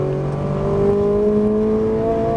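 A Ferrari 458 Italia accelerates on the Auto Club Speedway track, its engine note climbing steadily and loud from close by, a sustained rising whine with no voices over it.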